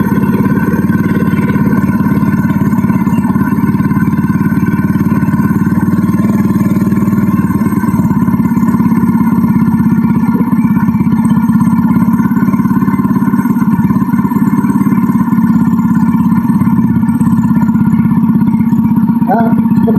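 A motorcycle engine idles steadily and loudly for the whole stretch, a continuous low throbbing rumble with mechanical clatter throughout.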